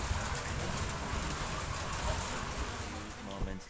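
Heavy rain pours steadily in a loud, dense hiss across the whole stretch, with no pauses and no clear voices on top.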